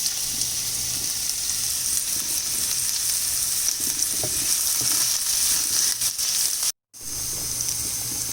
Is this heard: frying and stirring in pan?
yes